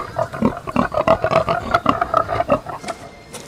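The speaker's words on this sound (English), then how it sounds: "But you will hear, for example," Pigs grunting and squealing in a sound art installation by Krištof Kintera at Museum Tinguely, a dense run of rapid, near, fairly loud snorts and grunts with no talk.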